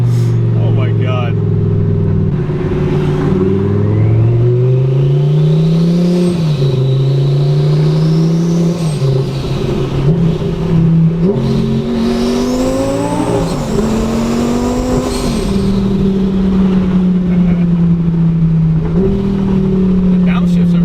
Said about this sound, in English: The downshifts are really fast.